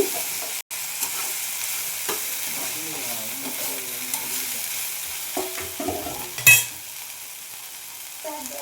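Okra frying on a low flame in a pan while being stirred and mixed, a steady soft sizzle with scraping strokes of the spoon and an occasional clink, no talking.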